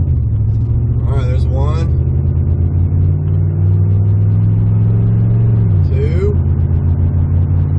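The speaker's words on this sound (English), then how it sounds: "see if this thing shifts" An old truck engine rumbles loudly and steadily at close range, its pitch rising and then dipping around a gear change, while someone talks over it.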